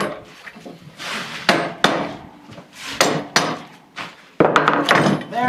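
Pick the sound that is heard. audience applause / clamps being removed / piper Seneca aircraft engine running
clamps being removed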